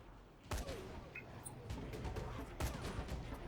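Enemy gunfire in the zombie video game Dying Light: The Following comes as faint, scattered shots and bursts over a low background of game sound.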